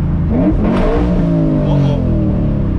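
A drift car engine revs hard, loud and up close, the pitch sweeping up and down over several seconds as the car spins its wheels in third gear.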